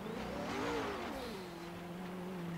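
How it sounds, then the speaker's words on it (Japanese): A car engine in Forza Horizon 3 held at low revs while driving on snow, a steady mid-pitched drone that rises briefly, then settles back to an even low hum. "あんまりアクセル踏むと滑るから低回転で回さないとダメですね"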